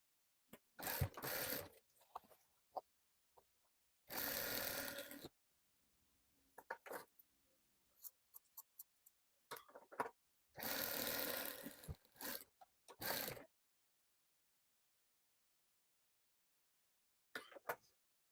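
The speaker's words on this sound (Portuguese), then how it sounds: "Como o tecido de Oxford é rebelde, a gente passa uma costura." A sewing machine stitches Oxford fabric strips for a patchwork rug, running in several short bursts of about a second each, separated by quiet pauses and faint handling clicks.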